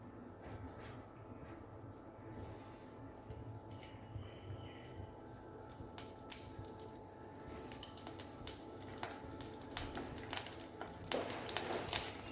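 Soya poha tikki shallow frying in a pan gives a steady, close sizzle with scattered sharp crackles and pops that grow busier toward the end; no one speaks.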